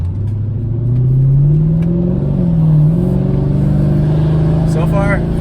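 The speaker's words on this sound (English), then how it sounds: "Just going on the first little test drive right now." A Mercedes C55 AMG on a test drive after fitting KYB Gas-A-Just rear shocks hums and rises in engine pitch as it accelerates and shifts, a loud steady cabin drone, with a voice speaking briefly near the end.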